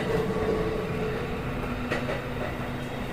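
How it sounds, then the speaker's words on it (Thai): A train rolls past in the horror game Tsugunohi, a steady, loud rumble of rail cars with faint clicking and a thin metallic whine running throughout, no voices. "น่าจะเป็นรถไฟ"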